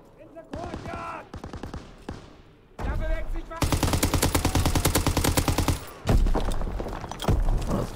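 Bursts of automatic gunfire from a built gun in Call of Duty, starting with scattered shots and rising into long, dense, loud machine-gun volleys that hammer on nearly without pause, with brief lulls between strings.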